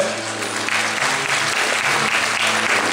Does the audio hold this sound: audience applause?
yes